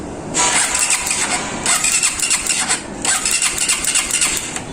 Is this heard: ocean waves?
no